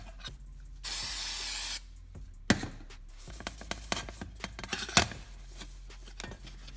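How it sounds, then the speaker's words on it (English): A short burst of Duplicolor prep spray hisses for about a second onto an aluminum engine cover, followed by scattered taps and light handling noises. "I'm going to use some prep spray by Duplicolor."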